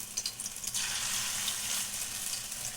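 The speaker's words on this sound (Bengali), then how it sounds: "একসঙ্গে বেশি দিলে এই 3টে করে দিয়ে দিয়ে ভাজতে হবে। এবার কমিয়ে দিয়ে ভাজতে হবে।" Chicken kebabs frying in a pan give off a bright, steady hiss of sizzling oil with a few crackles at the start, close and without speech.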